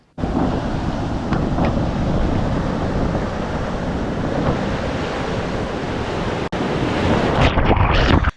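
Sea waves break and wash onto the shore during a storm, a constant roaring surf mixed with heavy wind buffeting the microphone, loud and continuous with a brief dropout near the end.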